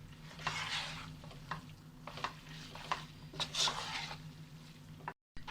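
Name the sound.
mixing spaghetti noodles in a pan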